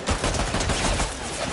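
Rapid automatic rifle fire in an online video game, a dense run of close, loud shots with no pauses for the whole brief burst.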